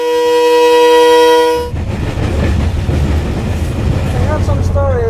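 A locomotive on the Tanzania-Zambia railway sounds a loud, sustained horn blast, then the train rumbles and clatters steadily along the track close by.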